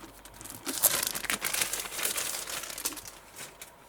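Red liner tape is peeled and pressed onto the back of a battery box for a floral cross, giving close, quiet crinkling and tearing rustles that come in small bursts throughout, with no one speaking.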